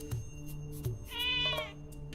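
A cat meows once in the Zelda Echoes of Wisdom video game, a short bright tonal call rising then falling, over quiet background game ambience with faint blips.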